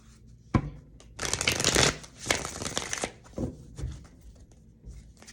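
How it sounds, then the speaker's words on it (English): Tarot deck being shuffled by hand, with a sharp snap, then several bursts of riffling and papery flicking in quick succession, separated by short pauses, close and clear. "Oh, why did I shuffle them like that?"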